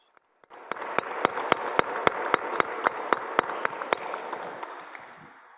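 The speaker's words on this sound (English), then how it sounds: "I ask you for a big applause for Laurence and her team" Audience applause for Laurence Kwok and her team at the GSEF2021 declaration ceremony, a steady burst of clapping with sharp individual claps standing out, starting abruptly and tapering near the end.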